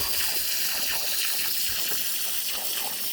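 Garden hose water washing sand away from gravel outdoors, a steady broadband rushing and splashing spray that holds loud and unbroken throughout.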